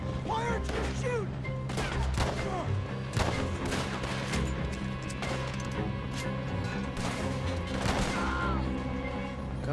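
Gunfight in Red Dead Redemption 2, with a string of sharp, loud gunshots and crashing impacts spread irregularly over several seconds, mixed with game music and voices.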